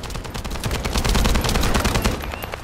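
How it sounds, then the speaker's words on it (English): Dense, continuous automatic gunfire roars throughout a short stretch of combat in the shooter game The First Descendant, loud and unbroken. "That stopped the gunfire."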